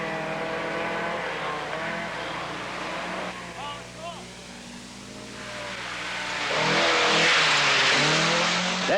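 Rally cars on a jump-filled forest stage of the 1979 Tall Pines Rally, engines droning steadily then swelling into a loud, rising rush near the end, with a commentator talking over much of it.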